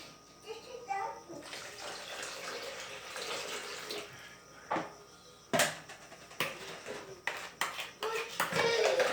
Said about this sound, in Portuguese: Aí agora vocês acrescentam a água